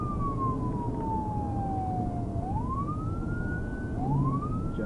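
A police car siren wails during a high-speed chase at up to 86 miles per hour, with long falling and rising sweeps, loud and close, over constant road and engine rumble.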